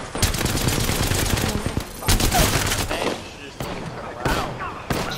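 Close, loud bursts of automatic gunfire in a video game, with repeated sharp cracks and short pauses between volleys, and a little voice chatter underneath.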